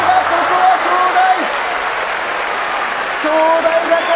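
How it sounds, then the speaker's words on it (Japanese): At a Kyushu Basho sumo bout, the home crowd gives sustained, dense applause and cheering that fills the arena, while a commentator talks over it. "地元からの大声援、そして大きな拍手を一身に受けて"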